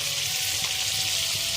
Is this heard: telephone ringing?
no